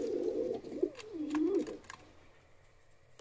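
Fantail pigeons on a pigeon farm give a low, warbling coo, close and clear for under two seconds before fading into quiet barn ambience with faint background noise.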